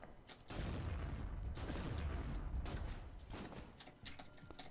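Rapid lever-action rifle gunfire in the video game Killing Room, loud, sustained shots overlapping into a dense volley with sharp transients and booming low end, easing slightly toward the end.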